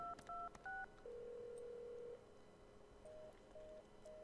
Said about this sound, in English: this time you'll get a dial tone that he's not answering